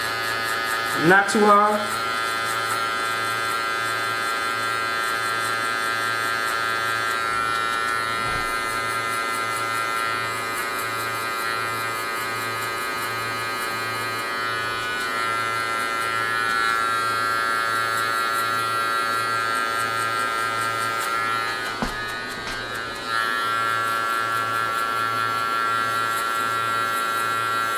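Electric hair clippers with the lever closed hum in a steady, loud, close-up drone through a mid-taper haircut. The pitch stays even except for a few brief clicks and shifts, and someone speaks briefly over it.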